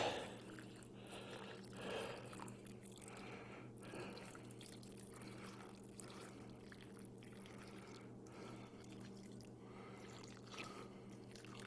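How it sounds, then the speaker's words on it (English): Water splashes and trickles from a watering bucket onto freshly planted onion seeds in soil, a faint, continuous pour with soft drips and a low background hum, close by and without talk. "Now I'm just gonna water them down real good."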